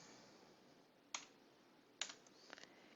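A few sparse keyboard key clicks, two sharp taps then a short cluster, fairly close against a quiet background hiss.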